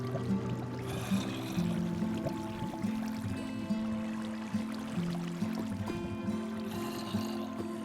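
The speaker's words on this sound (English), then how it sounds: "I'm hearing a lot of water." Flowing water in Minecraft runs steadily as a soft, continuous trickle and wash, with low looping game tones and faint background clicks throughout.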